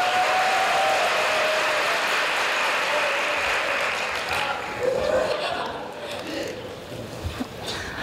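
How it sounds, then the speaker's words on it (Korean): Audience applause fills a hall at a university entrance ceremony, a steady wash of many hands clapping that gradually thins out, with some voices and murmurs underneath. "홍혜승 학생에게 큰 박수를 부탁드립니다"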